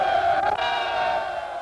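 A huge crowd roars at Le Bourget airfield for Charles Lindbergh's landing, a dense, steady wall of distant cheering and shouting that holds without a break throughout.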